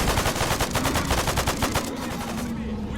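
Rapid automatic gunfire in the S.T.A.L.K.E.R. video game, a dense run of sharp repeated shots that fills the first two seconds and then thins into a steady hum of battle noise.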